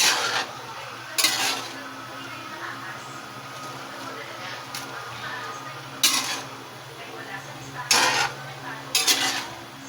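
Food stirred in a pot, with a utensil clinking and scraping against the metal in a few sharp bursts over a low steady background hum.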